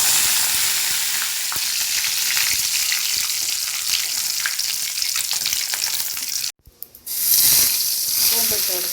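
Mustard seeds and curry leaves sizzle and crackle steadily in hot coconut oil, a dense close frying hiss with scattered pops that cuts out abruptly near the end before a brief louder burst resumes.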